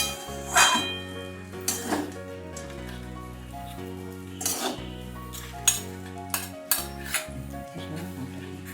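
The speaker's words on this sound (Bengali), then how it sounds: "গ্যাসের ফ্লেমটা লো টু মিডিয়ামে রেখে চাউমিনটা ভালো করে নেড়ে নেওয়া হচ্ছে" Chowmein tossed and stirred in a pan over a low-to-medium gas flame, with scattered metallic scrapes and clinks of the utensil against the pan at an irregular pace, heard close up under background music.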